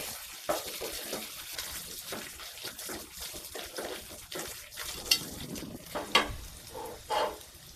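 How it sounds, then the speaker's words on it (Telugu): Brinjal simmering and being stirred in a pan for a Telugu vankaya roti pachadi, with soft irregular scraping and bubbling, intermittent spoon-on-pan clinks and a few sharper knocks, close and moderately quiet with no talk. "ఒక ఐదు నిమిషాలు ఉడకాలి కలబెడుతుంటే మంచిగా వెళ్తుంది వంకాయ"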